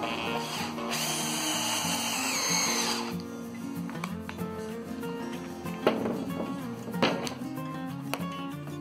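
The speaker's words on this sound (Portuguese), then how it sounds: "Agora pus aqui na furadeira de novo" Power drill whirring loudly for about three seconds while a sofa foot is being installed, then shorter tool and workshop clatter with a few sharp knocks over a steady hum.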